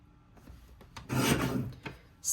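Paper is trimmed for a scrapbook page kit in a few short scraping and rasping strokes close up, with one longer slide in the middle and a faint click at the end.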